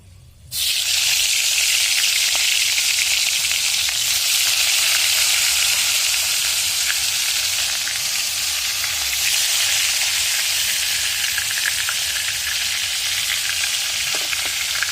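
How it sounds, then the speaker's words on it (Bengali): Pangas fish pieces rubbed with turmeric and salt fry in hot oil in a wok, a loud, continuous crackling sizzle that starts abruptly and holds steady throughout, with no voices. "মাছগুলো ভালো করে ভেজে নেব"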